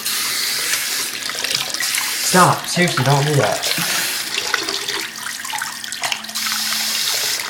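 Tap water running steadily into a basin, a continuous loud hiss and splash throughout, with people talking briefly over the flow.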